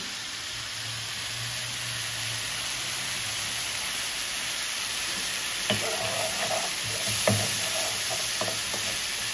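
A spice paste with yogurt sautéed in a pan for Bengali brinjal curry: a continuous close hiss of frying, with a few scraping strokes of a spatula against the pan toward the end.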